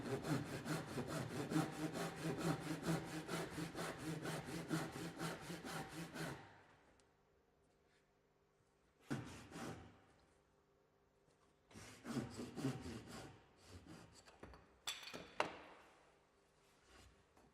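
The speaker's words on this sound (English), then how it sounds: "a fine-toothed saw can be used to cut along the line of the joints to eliminate any minor gaps" Fine-toothed hand saw cutting along timber joints in a repair, a long run of rapid rasping strokes, then silence and a few shorter sawing bursts, close and fairly quiet.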